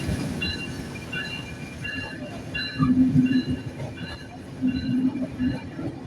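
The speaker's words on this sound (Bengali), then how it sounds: "ট্রেন চলে আসছে, খুলনা থেকে ট্রেন যেটা আমরা উঠবো সেটা চলে আসছে," A Bangladesh Railway intercity train from Khulna rolls into a station, a heavy rumble with rhythmic wheel clatter and faint squeals, steady and fairly close, with surges of louder rolling noise throughout.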